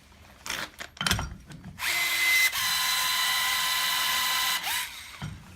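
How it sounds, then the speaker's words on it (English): An Ingersoll Rand QX torque multiplier tightening a bolt runs in a steady, loud whine for several seconds, shifting pitch partway through, after a few short clunks and taps at the start. "you can hear it downshift, and then it went up to 300 foot-pounds of torque on that bolt"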